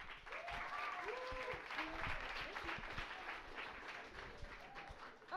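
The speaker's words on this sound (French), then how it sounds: "vous pouvez les applaudir." An audience claps for presenters at a psychology talk, a soft, fairly faint applause that runs for several seconds while voices talk and murmur over it.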